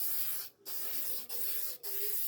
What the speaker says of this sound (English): I'm going to have to spray it because I've got pastels on it